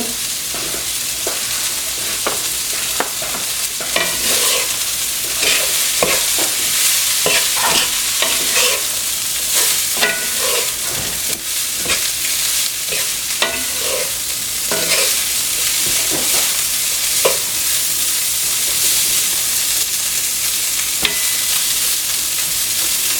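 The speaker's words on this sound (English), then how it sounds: "I'm going to cook the rest of the linguine that I had from the other night." Leftover linguine stir-frying in a pan, a continuous close sizzle broken by frequent scraping and tossing of a utensil, busy and even for over twenty seconds with no talking.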